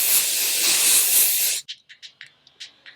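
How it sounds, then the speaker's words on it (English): A large Krylon can of matte setting spray lets out one long, loud, steady aerosol hiss that cuts off abruptly, followed by a few short, sharp sputtering puffs. No one speaks. "Let's go in with my matte setting spray. I found my big Krylon can."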